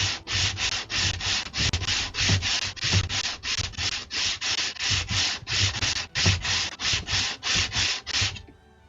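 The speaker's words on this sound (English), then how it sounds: "I'm just gonna have to sand this edges a little bit." Close, loud sanding of a wooden edge, with about twenty steady back-and-forth rubbing strokes in an even rhythm that stop just before the end.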